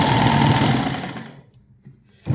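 A sewing machine stitches a blouse, a loud, steady close whirring run that slows and stops, followed by near silence and a brief restart.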